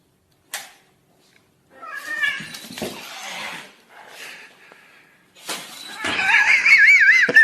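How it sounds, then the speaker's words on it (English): A cat meows in several loud, drawn-out calls with short gaps between them, ending in a long, wavering yowl. No one speaks. "The cat."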